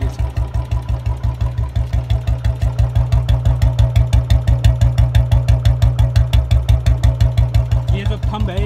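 A Royal Enfield Bullet motorcycle engine idles close by with its steady, evenly spaced thump, a loud low rhythmic beat running throughout with no talk.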